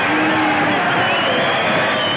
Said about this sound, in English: The crowd's yelling for the main event.